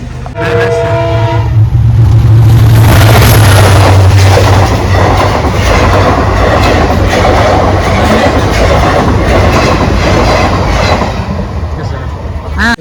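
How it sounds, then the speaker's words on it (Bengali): A train passes a railway crossing with its gate lowered: a horn sounds near the start, then a loud, close rumble and steady clatter of the wagons roll by for the rest of the clip. "ট্রেন আসবে আপনাকে দেখাই"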